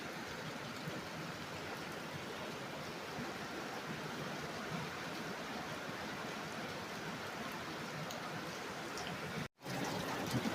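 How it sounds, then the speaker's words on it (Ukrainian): Steady rain pours down, a dense continuous hiss of drops with no pauses, briefly cut off near the end. "На кінець у нас пішов дощ."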